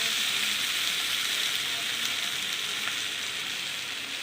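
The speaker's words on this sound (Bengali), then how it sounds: "ভালো করে মশলাটা ভেজে নেওয়া ওলের সঙ্গে আলুর সঙ্গে করে ভালো করে ভেজে নিলাম" Spices frying together with chunks of elephant foot yam and potato in a pan, a steady close hiss and sizzle that holds evenly throughout with no talking.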